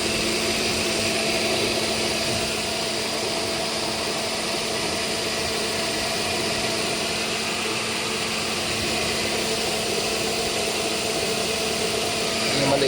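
Car engine idling steadily for a home repair job, a continuous loud mechanical hum with a constant pitch and no change in revs throughout.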